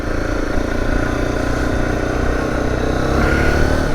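A Zontes T2 310 motorcycle engine drones steadily while riding, a loud continuous mid-pitched hum with wind rush and no sharp revs, holding even throughout.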